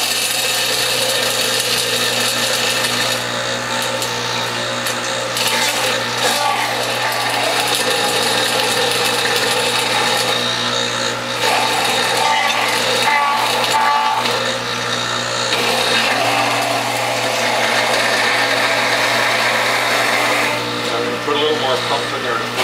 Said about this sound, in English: I'm going to start feeding in the pumpkin, seeds and all.